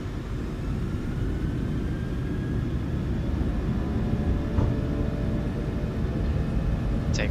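Airliner engines spooling up for takeoff in Microsoft Flight Simulator 2020, a Norwegian PMDG 737: a steady, dense roar with faint whining tones, continuous and fairly loud throughout.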